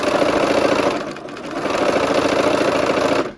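A sewing machine runs fast, stitching a quarter-inch seam on a barn quilt sampler, a close, loud, steady whirring hum that dips briefly midway, then runs on and stops abruptly at the end.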